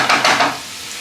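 Vegetables with green chilies softening in a pan over medium-high heat, a brief bright sizzle with stirring scrapes that fades after half a second.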